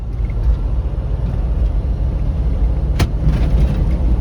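Semi truck rolling down a two-lane Michigan highway, a steady low engine and road rumble throughout with a brief sharp click or knock near the end.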